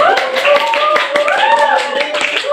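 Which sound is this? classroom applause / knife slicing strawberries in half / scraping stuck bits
classroom applause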